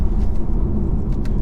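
A BMW 330e plug-in hybrid accelerates hard in sixth gear, a loud steady low rumble of engine and road noise from inside the cabin, with no talking.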